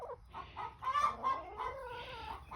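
Farm chickens cluck in a short run of close, throaty calls, several rising and falling notes in a row, fairly quiet and with no talking over them.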